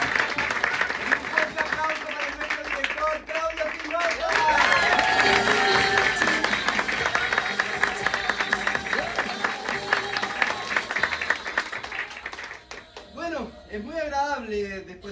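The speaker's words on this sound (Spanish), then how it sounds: "Un fuerte aplauso para" A theatre audience at an improv show applauds loudly with dense clapping and some cheering, while voices and a bright sung or whistled melody carry over it, before the clapping thins out near the end.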